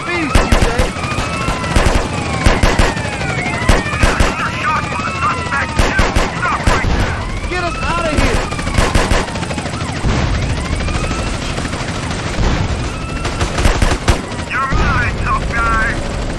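Gunshots in the video game GTA San Andreas during a drive-by chase, rapid repeated bursts of loud fire with a helicopter thrumming and a voice talking throughout.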